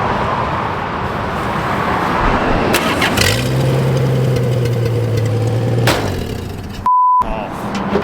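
A 1936 rat rod car engine firing up after a roadside repair, with a low droning note settling into idle amid traffic noise, then cutting off, followed by a short electronic beep.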